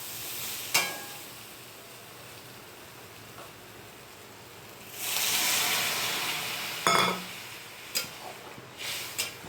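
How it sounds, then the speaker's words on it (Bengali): Water poured onto fried potato and pointed gourd in a hot pan sets off a loud burst of hissing sizzle midway, after quieter frying, followed by clinks of utensils. "ভাজা হয়ে গেছে, এবার জলটা দিয়ে দেবো।"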